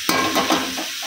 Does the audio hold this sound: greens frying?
yes